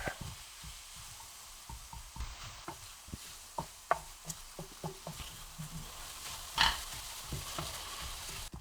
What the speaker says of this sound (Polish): Dobra, smażymy.